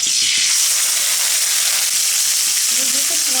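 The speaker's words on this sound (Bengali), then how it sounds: "আমি ওই তেলের ভিতরে চিংড়ি মাছগুলো ভেজে নেব।" Shrimp frying in hot oil for a potato poppy seed curry, a loud, dense, constant hissing sizzle close up, with faint background voices.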